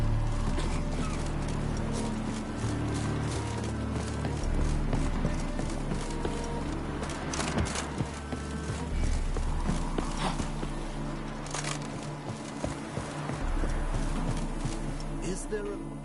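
Clip-clopping horse hooves in a PS4 game horse-racing scene, steady rhythmic hoofbeats with occasional whinnies, heard alongside game voices talking.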